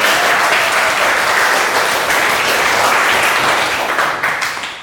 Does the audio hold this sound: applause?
yes